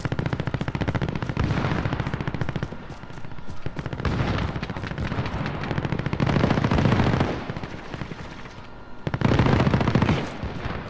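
Rapid automatic gunfire from a Call of Duty Warzone match comes in dense, loud bursts with short gaps, firing almost continuously across the stretch with booming impacts mixed in.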